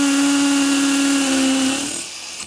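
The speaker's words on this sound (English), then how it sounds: "Did you see how the bit moved while I'm drilling into the piece?" A hammer drill bores into a wall for wall anchors, giving a loud, steady high-pitched whine close by that winds down after under two seconds.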